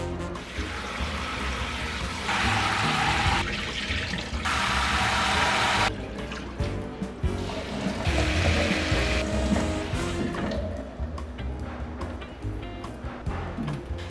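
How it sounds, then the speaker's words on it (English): Short grain white rice rinsed in water, with running and splashing water in bursts, loud and close, with quieter sloshing between the pours. "First step is we want to rinse the rice."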